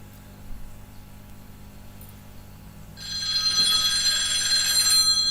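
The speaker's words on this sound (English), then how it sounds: "That might be a phone." A telephone ringing: after a few seconds of quiet room hiss, a loud, sustained electronic bell-like ring starts and continues to the end.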